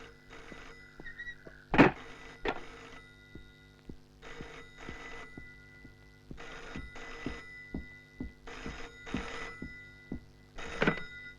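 A telephone bell rings in a film scene, repeated bursts of shrill ringing with short gaps between them, clear and fairly close, with no talk over it.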